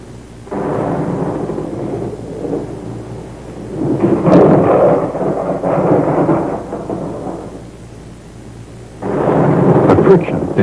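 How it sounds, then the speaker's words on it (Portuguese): Rolling thunder from a thunderstorm, deep rumbling swells rising and fading in three long bursts, the loudest in the middle, with a fresh surge near the end. "tempestades envolvem gigantescos acúmulos e liberações de carga elétrica"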